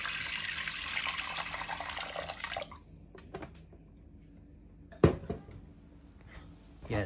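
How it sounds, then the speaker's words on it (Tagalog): Tap water runs into a pot holding two pieces of beef shank for kare-kare, a steady broadband rush for about three seconds that then stops, followed by a few clinks and knocks of the pot. "lagyan lang natin siya ng tubig"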